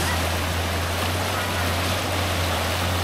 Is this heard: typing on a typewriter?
no